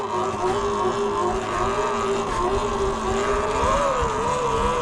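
Sur-Ron electric dirt bike held in a wheelie with the throttle feathered, giving a steady, fairly loud whining motor tone that rises and dips slightly as power is modulated, continuous throughout.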